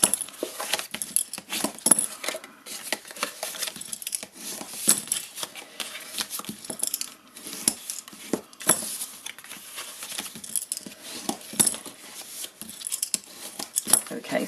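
A bone folder burnishing creases on a folded paper box, with continuous dry scraping, rubbing and crinkling strokes in quick irregular rhythm, close and fairly clear.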